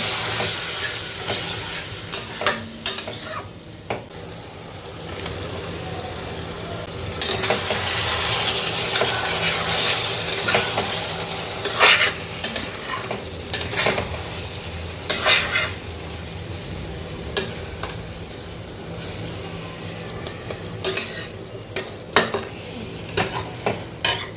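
Brinjal masala with sugar frying in oil as a little water goes in, a loud, hissing burst of sizzle and steam, then repeated scraping stirs with sharp clatters against the pan.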